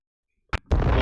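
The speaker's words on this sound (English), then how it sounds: "One more explosion." A sharp pop followed by a loud, sustained explosion sound effect with a heavy rumbling tail, heard alone after a brief silence.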